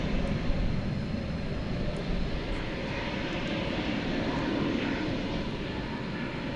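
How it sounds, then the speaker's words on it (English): A Frontier Airbus A320 roars at DFW Airport at night, its engine noise a broad, steady rumble that holds evenly throughout, with no voices. "Got a Frontier Airbus A320."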